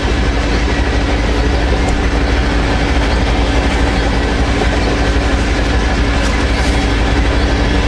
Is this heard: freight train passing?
yes